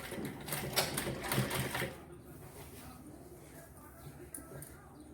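A sewing machine stitching a heavy Punjabi Patiala salwar, a brief, fast mechanical rattling run of stitches in the first two seconds under a voice, followed by quieter room sound.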